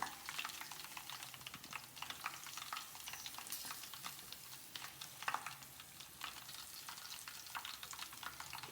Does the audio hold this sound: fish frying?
yes